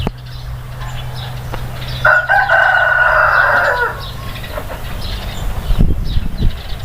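A rooster crows loudly once on a farm with calves nearby, a long drawn-out call over steady outdoor background noise, followed by faint scattered farmyard sounds.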